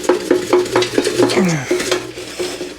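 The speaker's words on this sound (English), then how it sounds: "And I'm going to shake them up." Crispy potatoes tossed in a metal air fryer basket after ten minutes at 400 degrees, a quick burst of rattling, scraping and clinking over a faint sizzle, close and fairly loud.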